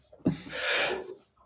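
A hay fever sneeze, a single sharp burst with a breathy spray trailing off, close to the mic.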